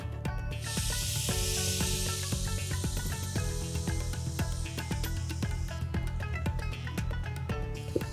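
Soaked red lentils (masoor dal) tipped into a hot pan of sautéed masala set off a loud, steady sizzling hiss that fades toward the end, with soft music underneath.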